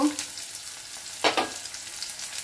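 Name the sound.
vegetables frying in a pan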